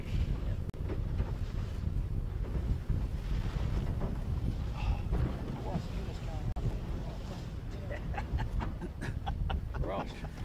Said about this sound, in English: back to windy again